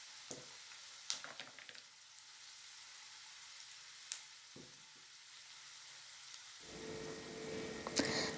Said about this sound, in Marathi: कांदा चांगला भाजून झाला।